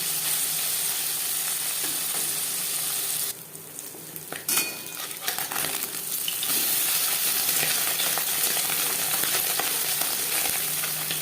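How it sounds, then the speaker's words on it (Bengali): Marinated puti fish fry in hot refined oil, giving a loud, continuous close sizzle that dips briefly as the fish goes in, with a few metallic clinks, then swells back to a full crackle. "এবার দিয়ে দেবো ম্যারিনেট করে রাখা মাছ আমি চা রিফাইন্ড অয়েলে করছি"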